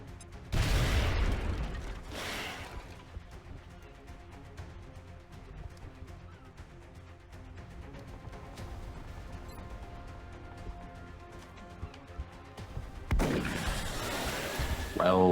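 Frag grenade explosions in the turn-based strategy game XCOM Long War burst out as two heavy booms close together, followed by a quieter stretch with low rumbling and a third loud blast near the end.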